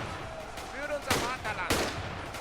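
German soldiers fire rifles in a massive World War II battle against zombies in Ultimate Epic Battle Simulator, sharp separate gunshots cracking at irregular intervals over a constant battle din, with someone talking over it.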